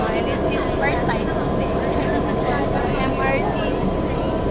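Steady loud rumble and rattle inside an MRT metro train riding through Manila in the Philippines, with people talking over the constant rolling noise.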